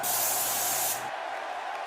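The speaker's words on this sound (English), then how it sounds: "I hear some spray paint." Spray paint hissing in the WWE 2K22 wrestling video game, a loud bright continuous spray for about a second that stops abruptly, leaving a softer background hiss.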